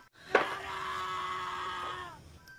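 A single sustained human scream in a horror film rises sharply and holds for nearly two seconds before cutting off, loud and alone.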